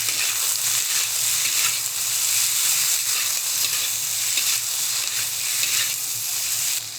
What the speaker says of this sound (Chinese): 猪肝瘦肉进锅翻炒